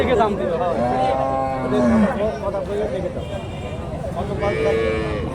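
Dairy cows moo repeatedly at a busy cattle market in Naogaon, with long, loud, drawn-out calls over a steady crowd murmur and people talking nearby.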